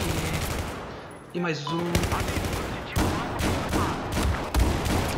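Rapid bursts of gunfire from a multiplayer shooter video game in domination mode, loud sharp shots repeating through most of the stretch, with a brief lull and a voice speaking near the middle.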